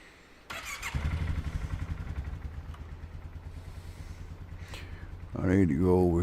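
A four-wheeler ATV engine in Ranch Sim starts up and settles into a steady, buzzy idle with a rhythmic putter, then revs higher near the end, while a person talks.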